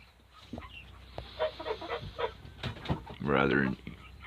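Chickens cluck and squawk in bursts inside a calf pen, a louder stretch of clucking standing out near the end, with a low voice talking over the barnyard noise throughout.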